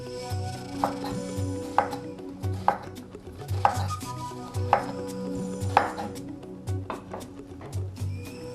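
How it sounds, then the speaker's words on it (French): Onions being chopped into small pieces with a knife on a board, steady rhythmic thuds roughly once a second, close and clear with no talking. "Maintenant, nous allons découper des oignons, également en tout petits morceaux."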